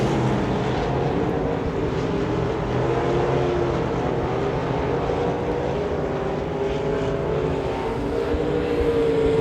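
USRA Limited Modified race cars roar around the dirt track at Devil's Bowl Speedway on the final lap of a heat race, a continuous loud blend of engines droning throughout.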